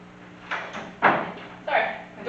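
A door is pushed shut with a few brief soft thuds and scuffs of movement, heard close up in a quiet room.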